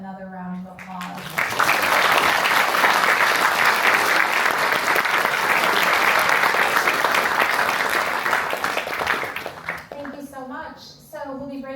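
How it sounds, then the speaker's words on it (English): An audience at an award conference breaks into loud, sustained applause for the speakers, dense clapping lasting about eight seconds before fading, with a voice speaking just before and after. "Please join me in giving them another round of applause."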